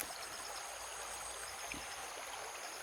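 Water flows from a big rock into a small creek near rice fields, a steady soft rushing hiss that continues unbroken and without voices.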